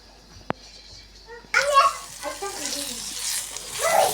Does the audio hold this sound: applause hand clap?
no